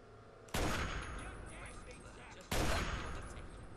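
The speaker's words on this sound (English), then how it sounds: "Ha, shot your gun." Gunfire in the Fallout 3 video game: two sharp, loud bursts about two seconds apart, each decaying into a rattling tail of scattered shots.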